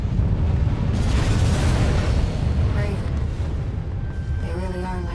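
Heavy missiles exploding in the mech game Armored Core VI, a dense rumbling roar of impacts and bursts that swells loudly then fades, with brief speech over it.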